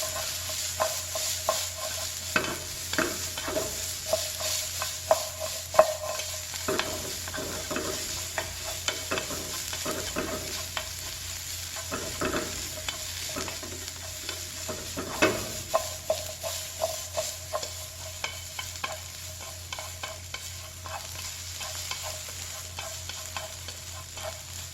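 Onion and dried zucchini strips stir-fried in a pan for palace-style tteokbokki, a steady moderate sizzle broken by repeated scraping and stirring knocks from a utensil against the pan throughout.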